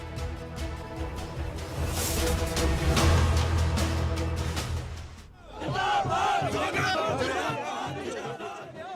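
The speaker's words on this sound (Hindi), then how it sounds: "इस दौरान समर्थकों की भीड़ उनके साथ थी।" Supporters at a Rajendra Rana rally in Mahantpur, Una, Himachal shout together in a loud swelling roar that fades, then someone speaks clearly over the quieter crowd.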